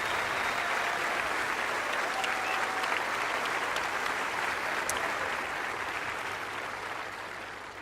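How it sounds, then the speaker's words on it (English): An audience at the Aarhus 2018 opening ceremony claps steadily for the volunteers in a dense, sustained wash of applause that gradually fades toward the end. "Please give all our volunteers a big applause."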